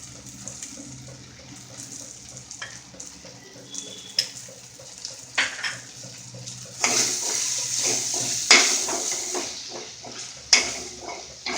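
Coconut powder, garam masala and coriander powders are stirred and fried in a pan for a village-style mutton liver masala. A low sizzle runs underneath, with scraping stirs and clatter growing louder and busier midway.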